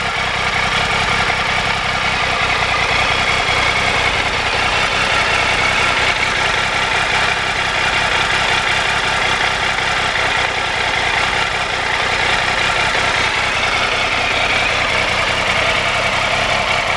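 A Triumph motorcycle engine idles as it warms up from a cold start, a loud, steady, close throb with a rapid even pulse that holds unchanged for the whole stretch, with no voices over it.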